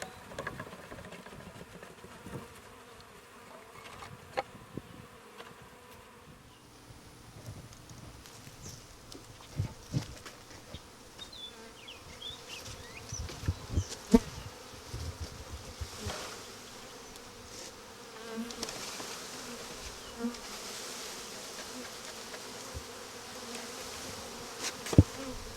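Honey bees buzz around a hive as frames are added, a dense continuous drone with individual bees passing close to the microphone, plus occasional knocks and clatter.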